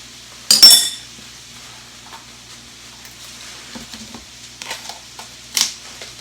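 Beef and broccoli is mixed with a utensil in a pot, producing a sharp clink at the start followed by quiet scraping stirs and a soft sizzle, with another clink near the end.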